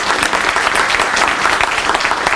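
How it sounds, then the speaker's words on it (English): Steady audience applause fills a legislative listening session on a rainy day, dense and continuous clapping from a room full of people throughout. "Can we give them a round of applause?"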